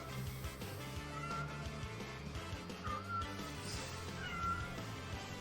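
A pet cat meows insistently again and again, fairly close, over a busy background of game music and sound effects.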